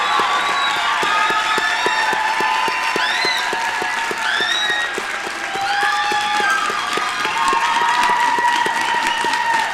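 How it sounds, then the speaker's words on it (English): Commencement crowd applauding graduates at a winter STEM ceremony, a dense, loud, steady wash of clapping with scattered cheers and whistles throughout, briefly dipping midway before swelling again. "And of course, one final round of applause to our graduates."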